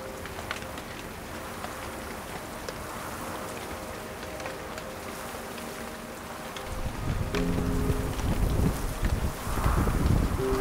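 Strong wind buffets the microphone on a salmon river bank during fly fishing, a constant rushing roar with low rumbling gusts that swell louder in the later seconds.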